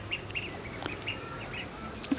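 Small ducks quack in short, soft calls a few times in quick succession over a low background rumble, fairly close but not loud.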